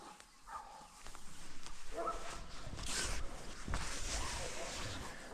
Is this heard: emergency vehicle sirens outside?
no